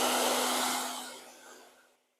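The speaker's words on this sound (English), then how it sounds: "You can use your hair dryer or a heat gun to heat it up" A hair dryer blows hot air onto heat-bendable wood trim, a loud steady whooshing roar with a low hum that fades out and stops within two seconds.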